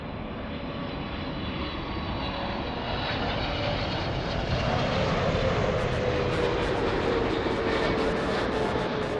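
Emirates jet at LAX airport, a steady broadband engine roar that holds at an even, fairly loud level throughout with no voices over it.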